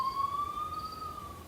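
An ambulance siren sounds as a single steady rising wail with no talk, clear and fairly close.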